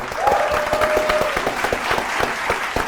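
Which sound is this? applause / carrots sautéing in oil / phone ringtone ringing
applause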